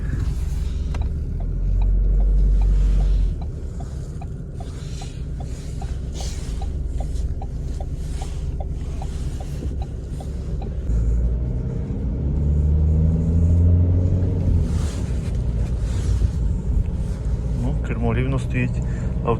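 A car drives along with steady road rumble and engine hum, and someone talks over the noise throughout as the engine note rises and shifts.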